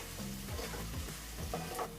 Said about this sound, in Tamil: வெங்காயம் பாருங்கள், இந்த அளவுக்கு வதங்கினாலே போதும்.